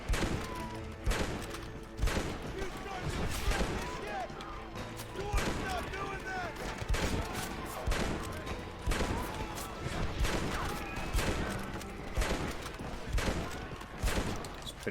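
Rapid gunfire from a player's weapon in the Western video game Red Dead Redemption, repeated sharp shots in an uneven rhythm over a busy, loud game mix with music and effects.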